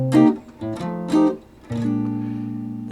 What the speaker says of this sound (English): Where if you play some as minor chords,